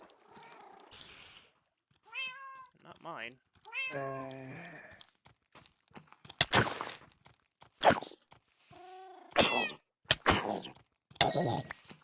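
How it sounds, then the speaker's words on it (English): Cats outdoors give several distinct rising meows in the first half, followed by clattering knocks and scattered sharp sounds, with a brief spoken remark. "somebody's cats are out here"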